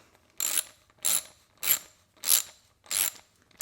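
A 7mm swivel-head ratchet loosens a hose clamp on an intercooler pipe, giving six evenly spaced bursts of sharp clicking at close range, separated by brief quiet gaps.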